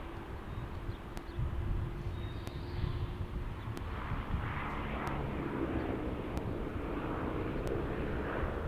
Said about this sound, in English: The old Beechcraft 1900. The Alpine Air Express.